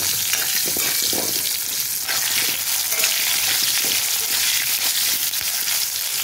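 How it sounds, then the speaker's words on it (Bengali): Onions and potatoes frying in oil for an egg and onion dish, a loud continuous hiss and crackle of sizzling with occasional stirring scrapes and no voices. "এখন তেলের মধ্যে এই আলু পেঁয়াজগুলো আমি দিয়ে ভেজে নেব ভালো করে"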